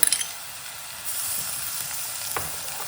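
Chopped onion and crushed green chilli sizzle and fry in a pan for a peas pulao, a steady close hiss with a brief stir near the start and a faint clink late on, no voices.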